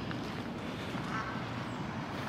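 Ducks quack around the farm area of a safari and adventure park, soft and somewhat distant, over a steady outdoor background hiss.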